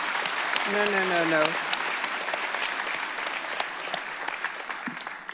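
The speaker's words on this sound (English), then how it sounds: "I think that really deserves applause." Audience applause at a literary festival meeting with an author, a steady wash of clapping that slowly thins, with a brief voice over it near the start.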